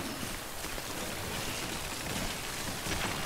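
Steady rain pours across the whole stretch in the video game Death Stranding, a dense, even hiss of drops with no talk over it.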